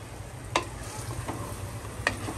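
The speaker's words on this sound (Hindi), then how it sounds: "जब तक हम इसको लो टू मीडियम फ्लेम पर 5 से 6 मिनट भूनते रहेंगे" Gosht, pieces of meat, fries in a pan over low to medium flame with a constant quiet sizzle, broken by a couple of brief scraping stirs.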